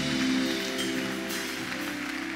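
A congregation applauds during a Spanish-language church service, a dense patter of clapping mixed with sustained musical tones from the worship band, fairly soft and even.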